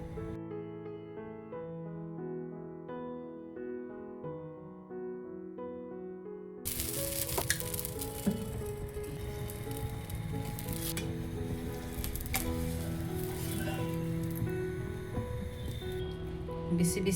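Soft music plays first, then a tomato dosa made from wheat flour cooks on a hot pan with a continuous wet crackling sizzle.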